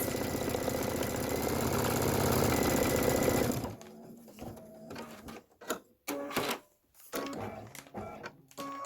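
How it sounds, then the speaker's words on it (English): A computerized embroidery machine stitches out a Kimberbell Bella design for a pillow, a loud rapid mechanical whirring that runs steadily for a few seconds, then stops and gives way to intermittent clicks, thumps and handling noises. "And now it's stitching out the Bella."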